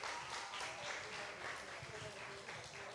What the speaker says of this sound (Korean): 우리 한 번 더 하나님께 영광의 박수 올려드리고